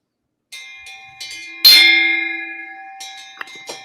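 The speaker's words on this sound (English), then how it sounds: "Get a little bit of gong sound there." A single gong is struck once, ringing loud and long with a shimmering tone that slowly fades, framed by brief, quieter knocks before and after.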